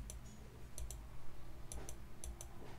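Computer mouse clicks come in small close pairs and singles against a quiet room while working in Affinity Publisher, with no talking.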